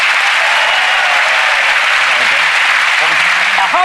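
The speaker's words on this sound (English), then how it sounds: "Give Sarah a big round of applause," A studio audience at a magic show claps loudly and steadily in sustained applause that fills the room, with a voice faintly speaking over it toward the end.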